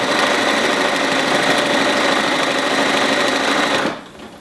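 A sewing machine stitches binding onto a quilt in a fast, steady mechanical whir that runs loud and continuous for about four seconds, then stops abruptly.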